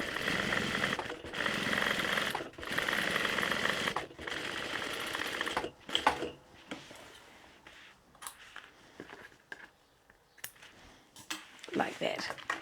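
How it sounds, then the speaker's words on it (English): Sewing machine top stitching along a tote bag seam, running in several continuous bursts with short pauses, then stopping for fabric handling and light clicks while a person talks. "And again, top stitch along there."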